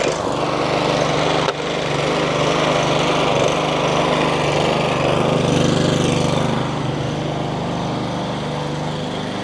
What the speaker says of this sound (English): mowing.